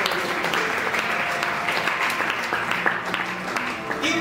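Congregation applauding during a Sunday church service, a dense, steady clapping from a large crowd with voices mixed in underneath.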